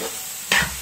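Sliced onions hit hot coconut oil for a beef roast, a quiet low hiss that jumps midway into a brief, bright burst of sizzling close by.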